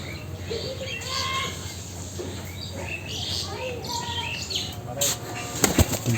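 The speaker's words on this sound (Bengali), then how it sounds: "বক পাখি চলে গেছে বাড়ির বাইরে" A heron takes off and flies away from around a village house. Its wingbeats give a soft, fluttering flap over background chatter and faint bird calls, with a few sharp knocks near the end.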